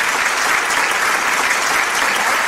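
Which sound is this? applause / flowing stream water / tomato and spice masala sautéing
applause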